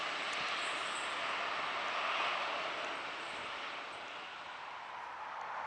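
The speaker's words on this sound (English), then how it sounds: "2807 is now departing platform number 2 for a Mossvale service" A passenger train pulls away from a station platform at Bargo, bound for Moss Vale, giving a continuous broadband rumble and hiss that swells slightly midway and then eases, heard alone without talk.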